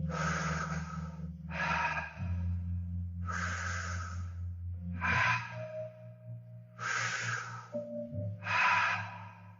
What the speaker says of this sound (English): keeping the breath circularly connected. That way you are always breathing in or always breathing out